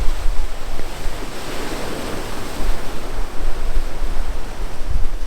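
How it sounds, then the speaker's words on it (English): Ocean waves crash and wash on the coast of Madeira in a continuous roar of surf, loud and close, with wind rushing across the microphone throughout. "waves crashing"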